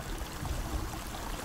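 River water flows steadily in the dinosaur video game Saurian, a continuous rushing, gurgling wash with no other sounds.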